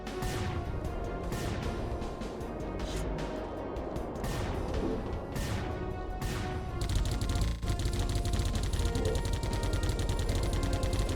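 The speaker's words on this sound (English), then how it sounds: "I guess this is the anti-ghost gun. Because I just killed those ghosts." An anti-ghost gun fires in the game Geist in repeated bursts of sharp, rattling shots, then gives way to a continuous harsh, noisy roar in the later part, all fairly loud with no speech.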